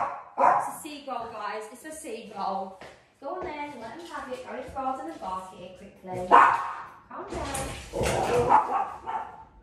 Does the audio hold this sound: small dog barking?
yes